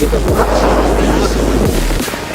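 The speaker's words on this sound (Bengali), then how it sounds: "প্রচুর বাতাস হচ্ছে" Strong wind on the deck of a river launch bound for Khepupara on the way to Kuakata, roaring and buffeting the microphone loudly and steadily throughout, with heavy low-end thumps.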